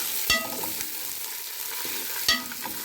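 Meat and onions sauté in a hot pan for an okra and meat stew, a steady close sizzle with two sharp clanks of a spoon against the pan and light stirring scrapes, with no talk.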